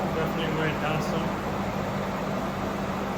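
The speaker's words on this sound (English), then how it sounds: "Sorry about the fan noise." A fan runs in a hot garage, giving an even, constant rushing hum that fills the space without any change in level.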